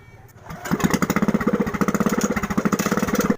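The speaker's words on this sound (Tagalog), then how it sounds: "Nang agad ko ngang napaandar itong makina ng bangka" A small boat engine in Bolinao, Pangasinan, Philippines starts and settles into a steady, loud putter with rapid regular pulses, close by and running alone.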